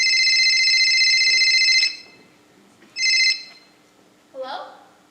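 A telephone rings loudly in a suburban home, two bursts of electronic-style ringing separated by a pause, followed by a brief higher cry-like sound; no talk alongside.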